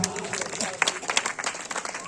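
A congregation claps loudly at a pastor's gathering in Ongole, producing a dense, steady patter of many hands that stays close and continuous for the whole stretch, with a few sharper individual claps standing out.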